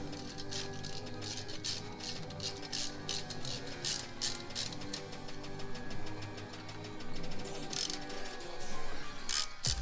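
Rapid ratchet clicking while bolts are tightened on carbon fiber engine cover brackets of a 2020 Subaru WRX, a steady dense run of close mechanical ticks with brief pauses, no talking.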